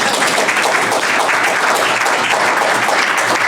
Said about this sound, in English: I want you all to applaud yourself.